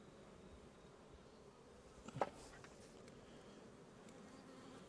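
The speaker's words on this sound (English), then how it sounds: "Lovely strong hive and nice calm bees." A calm, strong honey bee hive, open to the air, hums with a soft, steady buzz, and one bee zips past close by midway through.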